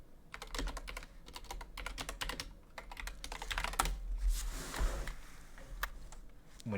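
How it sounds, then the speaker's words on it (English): Computer keyboard keys clack in quick, irregular bursts close to the microphone, moderately quiet, with brief pauses between flurries and no talking. "When you guys hear that, I'm setting my keyboard up."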